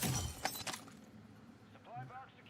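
Glass breaks in a video game, a sharp shatter with tinkling fragments at the start that quickly fades, followed by quieter game sounds and someone talking.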